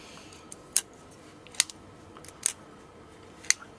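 Small body screws being driven into an axis-lock pocket knife during reassembly give four sharp, faint clicks spaced about a second apart over a quiet background.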